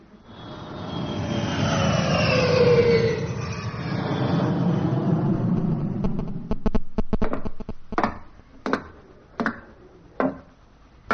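Aircraft engine sound effect for a mock papal arrival at Bolton International Airport on a radio comedy panel show: a loud jet-like roar swells and fades, then gives way to sharp bursts of audience laughter and applause.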